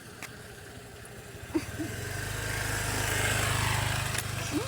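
A motorcycle passes along a road at nightfall, its mid-pitched engine drone swelling steadily over several seconds and easing off slightly at the end, heard moderately near against faint outdoor background with no talking.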